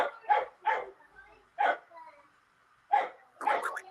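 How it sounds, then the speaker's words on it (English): A dog barks in a few sharp, close bursts with short gaps, some yippy and slightly whiny, in an otherwise quiet indoor space. "I can't hear you with the noise between the dog and the kids."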